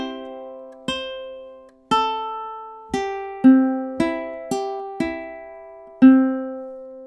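A ukulele plucks measures 18 and 19 on open strings, nine clear single notes ringing out one after another and decaying between strikes, close and unaccompanied.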